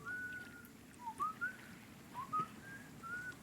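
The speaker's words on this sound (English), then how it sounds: "Please don't whistle into the mic." Someone whistles a few short, wavering notes close to a microphone, sounding lightly through a low background rumble in a quiet room.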